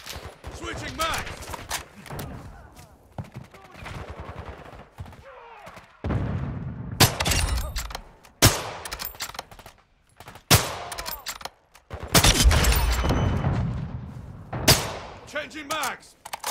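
Video game gunfire in a shooter match: loud, rapid bursts of automatic weapon fire break out again and again, separated by short lulls, with voices talking now and then between the volleys.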